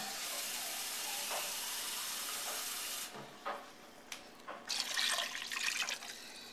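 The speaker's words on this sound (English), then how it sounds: "I'm going to get a can of water in there too." A steady rush of water poured into a soup pot fills the first half, then gives way to scattered splashes and trickles, close by.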